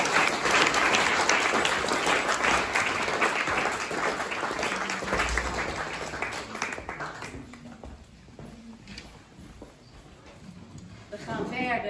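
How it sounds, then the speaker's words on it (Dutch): Audience applause for a concert of music from around 1623 at the Mauritshuis in Willemstad, a dense, steady clapping from a seated crowd that thins out toward the end before a brief final swell. "Applaus!"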